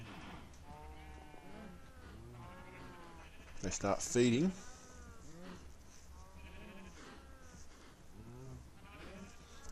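In the video game Minecraft with the Tekkit modpack, a burst of sheep bleating rises midway through, short and wavering, while someone talks steadily over a quiet background.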